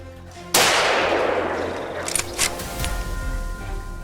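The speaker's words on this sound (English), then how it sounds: "Gunshots rang out immediately, but these boars were fast." A gunshot cracks sharply during a wild boar hunt in New South Wales, its blast decaying into a long echo, followed by a few fainter distant reports.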